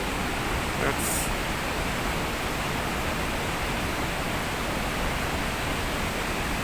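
A waterfall roars in a steady, dense rush of falling water, loud and unbroken throughout.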